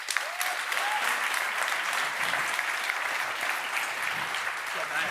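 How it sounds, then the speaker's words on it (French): Steady, dense applause from an awards gala audience fills the room for the full length, loud and unbroken, with a few faint voices mixed in under the clapping. "S'il vous plaît, un tonnerre d'applaudissements pour Mathieu Bellil."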